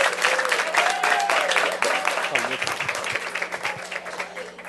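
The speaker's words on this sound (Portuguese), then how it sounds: "É uma salva de palmas mais uma vez para vocês." An audience at a political education event applauds steadily, dense clapping filling the room while a voice briefly speaks over it before the applause slowly thins.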